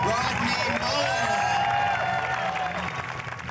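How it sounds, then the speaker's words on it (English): Audience applause and cheering from a large crowd welcoming professional freestyle skateboarder Rodney Mullen onto a stage, dense and steady throughout, with crowd babble mixed in and a slight fade near the end. "Let's give him a big round of applause"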